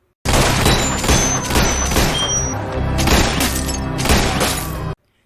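Sniper rifle gunshots in a film boom loudly in a dense, rapid series of blasts with crashing, shattering debris and ringing tones, ending abruptly into silence.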